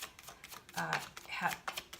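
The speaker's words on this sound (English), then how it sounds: "I do have to shuffle the cards" Tarot cards being shuffled by hand give quick papery riffles and soft taps in a short burst, close and fairly quiet, with a voice speaking alongside.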